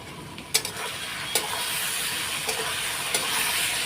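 Spice paste with ground Kashmiri chilli and cumin sautéing in hot oil, a steady close sizzle broken by a few sharp scrapes and clinks of the spatula against the pan.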